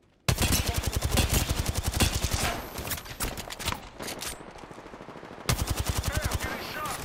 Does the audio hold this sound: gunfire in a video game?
yes